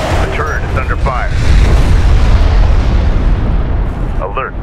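Heavy explosions and deep booming fire hit a defensive turret during a battle in the desert strategy game Homeworld: Deserts of Kharak, a dense continuous low rumble with brief radio-style voice callouts at the start and end.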